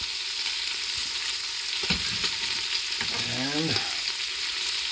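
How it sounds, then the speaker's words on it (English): Leeks fry in a pot for a potato, bacon and leek soup, a steady soft sizzle with a few stirring scrapes, and a brief voice is heard underneath. "So then we're going to add all these leeks."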